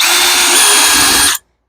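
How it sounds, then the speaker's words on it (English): A power drill bores holes into a pumpkin witch Halloween decoration, a loud, steady whine running continuously for over a second before cutting off abruptly. "And we're going to drill 2"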